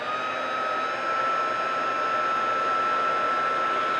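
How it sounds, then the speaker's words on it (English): An embossing heat gun blasts hot air steadily onto a glass ornament, a loud, constant broadband whoosh with a faint whine riding on top, held in one place without pause. "And you can see I'm holding my embossing gun just in one place"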